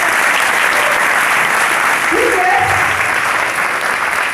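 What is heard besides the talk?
audience applause at training seminar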